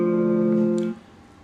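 Acoustic guitar double stop in a Skip James Delta blues style, the open top string ringing with the open third string: one sustained chord held near and clear for about a second, then cut off abruptly.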